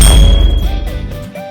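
A bright notification bell ding sounds once loudly at the start, its metallic ring decaying with a low thump underneath and fading tones trailing off, with no speech.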